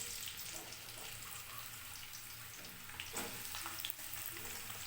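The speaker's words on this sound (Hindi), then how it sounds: "थोड़ा सा हम इसे फ्राई करते हैं।" Onions frying in hot ghee in a pan for white chicken, a steady close sizzle with soft crackles and occasional stirring scrapes.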